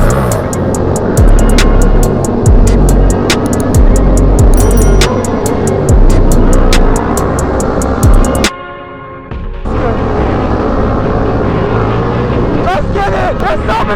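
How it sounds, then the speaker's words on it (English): Motorcycles roar and rev at a stunt rideout as riders pull wheelies, with repeated engine surges and passes. Voices talk and shout over the loud engines. "There's so many wheelies!"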